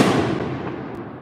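A single loud July 4th firework burst booms close by and then trails off into a long, fading rumble, with no voices.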